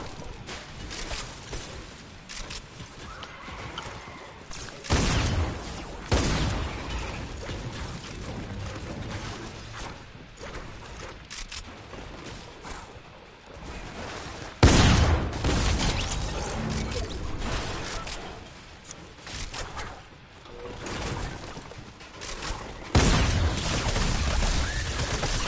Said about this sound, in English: I hear him shooting.